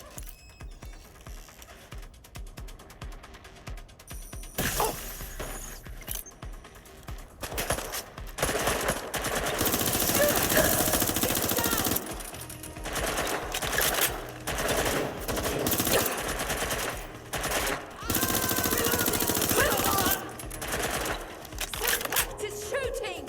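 Gunfire erupts in Watch Dogs: Legion, dense bursts of automatic shots rattling loudly and continuously for long stretches, broken by brief pauses and mixed with game sound effects.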